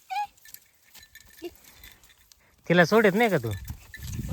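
A Kathiawadi goat lets out a loud, wavering bleat up close after a quieter stretch in a field with tomato plants; someone speaks briefly before it.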